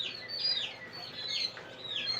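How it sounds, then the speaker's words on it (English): Baby chicks and quail chirp repeatedly inside an incubator room, a steady run of faint, high peeping calls overlapping one another with no talking. "Birds are letting their voices be heard tonight."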